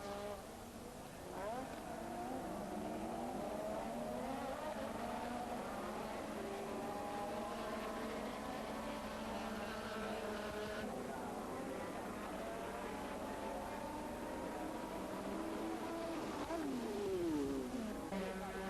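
Formula 1 race cars roar at the 1984 British Grand Prix as several high-revving engines whine and sweep up and down in pitch, sustained and distant, with a continuous wash of crowd and track noise.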